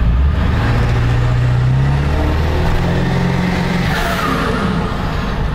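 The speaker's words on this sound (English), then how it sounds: "I can definitely hear that turbo a lot more" A 7.3L Powerstroke diesel truck with a 10-inch exhaust revving hard up a hill, a loud continuous engine roar with a rising turbo whistle on top, close and sustained without talk.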